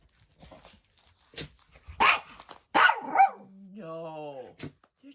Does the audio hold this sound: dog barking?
yes